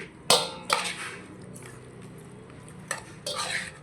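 A ladle stirring one kilogram of cooked rice while mixing gongura masala pulihora, with a few sharp scraping strokes against the pot separated by quieter pauses, close and distinct.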